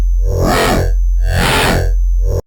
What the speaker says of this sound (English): If I start adding on things like a distortion unit to give it a bit more bite